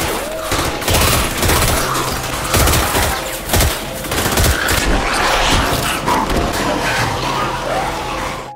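Gunfire in a zombie film as a rescue team fights through a school: dense, loud volleys of rapid shots and machine-gun bursts overlapping continuously, with a brief voice underneath.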